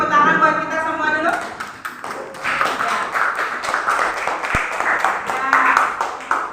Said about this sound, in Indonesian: Masing-masing tepuk tangan buat kita semua dulu.